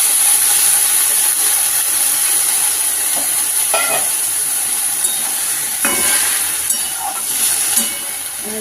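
Bottle gourd greens stirred in a frying pan, with a steady steamy sizzle and scattered scraping and clinking strokes from the spoon, close and fairly loud throughout.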